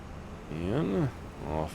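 Farm vehicle engine in Farming Simulator 25 cranking and starting, a rising and falling whine swelling briefly then settling into a steady low idle, over background hum with talk present.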